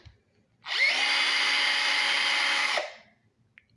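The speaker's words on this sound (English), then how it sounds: "I bought this drill. It's cordless." A cordless drill whirs up, runs at a steady high-pitched whine for about two seconds, then winds down, with quiet surroundings before and after.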